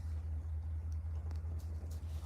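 A U-Haul moving truck's engine idles with a low, steady rumble, heard faintly from outside.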